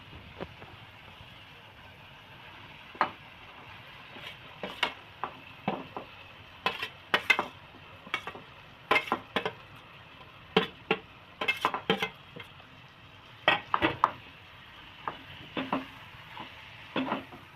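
Paneer is stirred into cooked masala in a pan over low heat for paneer bhurji. A spoon scrapes and clatters in irregular bursts over a soft, steady sizzle, close by.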